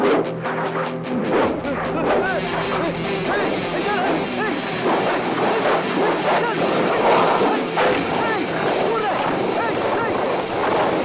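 A dog barks and yips repeatedly, then whimpers, close and loud, in a dubbed South Indian horror film, with agitated voices talking over the noise throughout.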